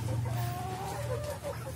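KUB breeder hens cluck softly inside a litter-floored chicken coop, a few low drawn-out clucks over a steady low hum, fairly faint and with no talk.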